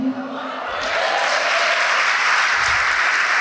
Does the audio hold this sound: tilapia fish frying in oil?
no